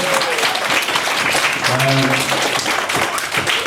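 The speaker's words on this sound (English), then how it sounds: "I think it's a lovely round of applause." Wedding guests applaud steadily in a room, a dense sustained clapping from a crowd with a voice or two briefly audible under it, near and fairly loud throughout.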